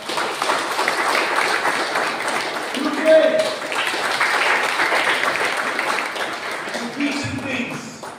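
A church congregation claps steadily and loudly for several seconds, a dense rain of hand claps with a voice briefly rising through it.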